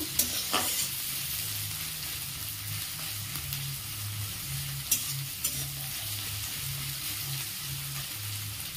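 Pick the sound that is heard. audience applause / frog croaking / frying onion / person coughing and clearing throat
frying onion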